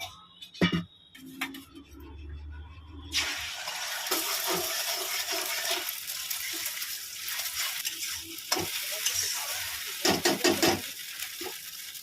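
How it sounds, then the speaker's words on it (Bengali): Three beaten eggs hitting hot oil in a kadai for scrambled egg bhujia, a sudden loud sizzle that settles into steady frying, preceded by a few clinks and knocks, with scattered stirring scrapes later. "3টে ডিম আমি ফাটিয়ে নিয়েছি, ডিমের ভুজিয়াটা করে নেব"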